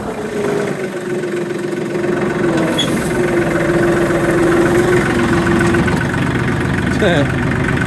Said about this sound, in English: We are plowing.